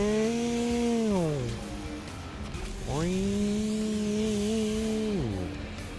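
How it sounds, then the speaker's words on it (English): Chainsaw in the Doom video game revving and cutting through a torso, two sustained loud engine whines that climb, hold and drop, with a brief lull between them. "Bro, you can chainsaw the torso?"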